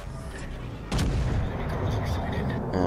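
A naval turret fires in World of Warships Legends: one heavy boom bursts out of quieter battle noise, followed by a rumbling roar that continues to the end.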